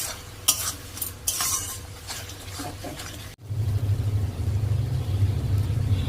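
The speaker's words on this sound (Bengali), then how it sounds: "মশলাটাকে একদম ভালো করে কষাতে হবে।" Spice paste fried and stirred in a pan for a chicken and banana-flower dish: brisk spatula scrapes and clinks over sizzling, then a steadier, louder sizzle with a low rumble, close and without talk.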